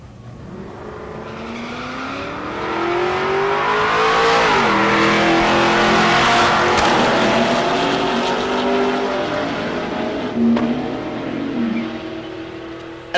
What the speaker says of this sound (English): The 4th gen Camaro. The 5th gen Camaro in the right lane.